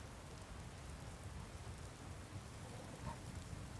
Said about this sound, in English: Why do I hear rain effects, though?